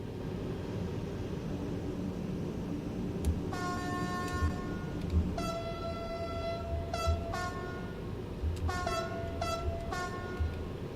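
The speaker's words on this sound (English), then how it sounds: "You can hear the TGV coming alive." A TGV high-speed train in the game Train Sim World 3 starts up on the LGV Méditerranée line, with electronic tones and beeps sounding in bursts over a steady low rumble.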